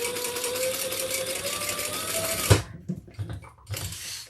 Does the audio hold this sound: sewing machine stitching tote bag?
yes